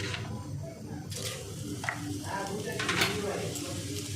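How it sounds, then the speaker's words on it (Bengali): Whole cumin and dried red chillies sizzle in hot oil with a soft, steady frying hiss and a few sharper crackles and stirring scrapes, fairly quiet and without talk. "দিয়ে দেবো 2টো শুকনো লঙ্কা একটু ফাটিয়ে। ফোড়নে একটু গোটা জিরে দেব।"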